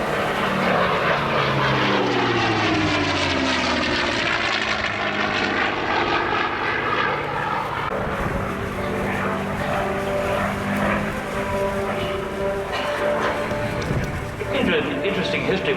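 Lockheed Constellation propeller airliner, built in 1948, flying past at an air show, its piston engines giving a loud sustained droning roar with shifting pitch, swelling and fading as it passes, with crowd voices faintly beneath.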